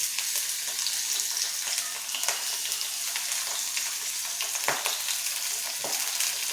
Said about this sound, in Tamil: நல்லா கலர் மாதிரி நல்லா வதங்கி வர வரைக்கும் வதக்கிக்குவோம்